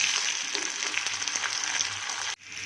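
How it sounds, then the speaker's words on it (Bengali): Sliced onion fries in hot oil with salt and a mix of ginger and garlic. A steady, close, crackling sizzle runs alone, then cuts off abruptly near the end before resuming faintly. "সেই তেলের উপরে আমি পেঁয়াজ ছেড়ে দিলাম"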